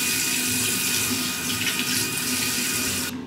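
A tap runs steadily into a sink while a face mask is being washed off, a close, constant splashing rush that stops abruptly at the end.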